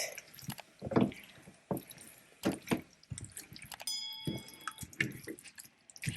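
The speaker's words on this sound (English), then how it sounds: "I will be adding the sauce now." Sauce goes into a pan of chicken and broccoli over low heat for a Chinese takeout-style dish, making a series of quiet pours, drips and wet splashes with a few small clinks.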